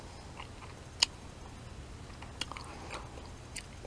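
A golden pear is bitten and chewed up close for ASMR. A couple of crisp bites snap out, followed by quieter wet chewing in a calm, near-silent setting.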